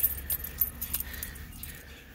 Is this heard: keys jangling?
yes